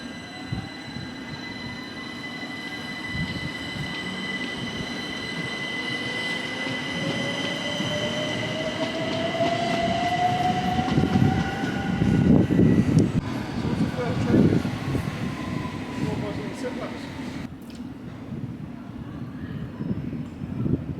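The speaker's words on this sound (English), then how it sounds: "So I can just see our train approaching just in the distance there." A Central line London Underground train approaching from the distance, a steady rumble building with a rising wheel squeal and metallic screeches as it draws nearer, then cutting out abruptly near the end.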